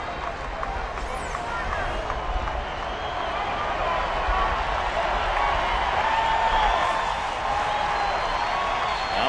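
A baseball stadium crowd in Detroit during a Chicago White Sox at Detroit Tigers game stirs and cheers, a broad, steady roar of many voices that swells slightly midway, with a commentator talking over it.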